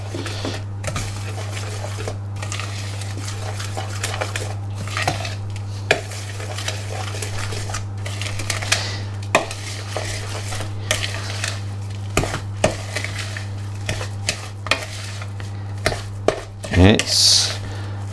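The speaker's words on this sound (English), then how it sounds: "Now we got to mix it up. So excuse me while I mix." Keto crinkle cookie dough being mixed in a bowl, repeated scraping and spoon knocks over a steady low hum, with a brief louder clatter near the end.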